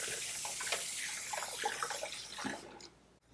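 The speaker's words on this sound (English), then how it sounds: "we're gonna wash our hands now." Tap water running steadily into a sink during handwashing in a home kitchen, a close, continuous splashing hiss that cuts off near the end.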